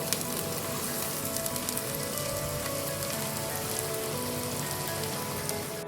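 Onion and spices fry in a pan for a mutton gola kebab gravy, giving a constant, dense crackling sizzle like rain on a surface. It stays steady and moderately loud with no voices.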